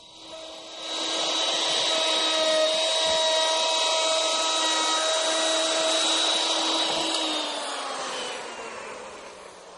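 A handheld electric router cuts a mortise into the side of a wooden piece, a loud steady whine that spins up, holds for several seconds, then winds down, with no talking.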